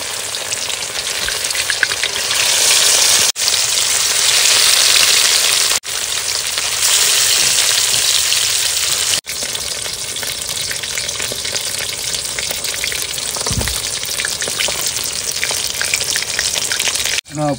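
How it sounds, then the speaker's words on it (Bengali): Fish pieces frying in hot oil, a loud, steady crackling sizzle that carries on with a few brief breaks and no one talking. "না প্রথমবারে মাছ ভাজা হয়ে গেছে"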